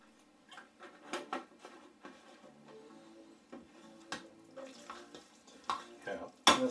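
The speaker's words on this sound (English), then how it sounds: "going to mash them up a little bit" Boiled potatoes being mashed with milk in a bowl, giving soft, wet squelching and scraping strokes that come in uneven bursts, close up and fairly quiet, with a sharper knock near the end.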